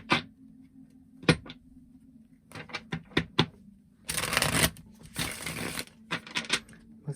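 Tarot cards are shuffled and handled up close. Brief papery taps and flicks lead into two longer riffling bursts, fairly quiet, with no talking.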